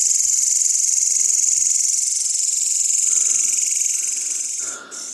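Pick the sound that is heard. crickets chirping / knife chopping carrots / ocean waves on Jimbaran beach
crickets chirping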